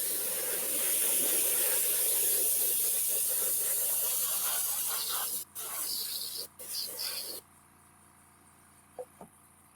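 An airbrush sprays paint in a long, steady close hiss that cuts off, then returns in short bursts and stops, with a faint click near the end.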